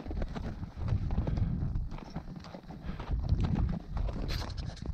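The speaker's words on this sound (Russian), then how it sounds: "Лошадь сама выбирает себе путь." Horse hooves clip-clop steadily on a rocky mountain gorge trail, close and continuous, with irregular knocking steps over stones and a soft rustle of movement throughout.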